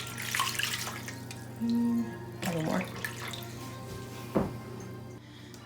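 Water pouring into a pan for a cheesecake water bath, a soft running trickle with a few brief splashes and drips close by, with a short spoken remark over it.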